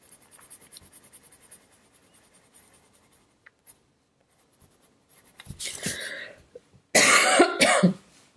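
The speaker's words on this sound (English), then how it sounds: "Sorry for the coughing, guys." A couple of close, harsh coughs burst out after a stretch of quiet scratching, the second louder and longer than the first.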